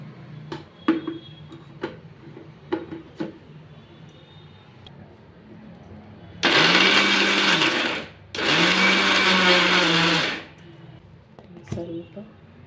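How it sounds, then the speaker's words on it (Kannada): A kitchen mixer grinder blends garlic and red chutney ingredients in two loud whirring bursts of about two seconds each, separated by a short pause, with light clicks and handling sounds before and after. "ಈಗ ಮಿಕ್ಸಿಗೆ ಹಾಕ್ಕೊಂಬಿಡೋಣ."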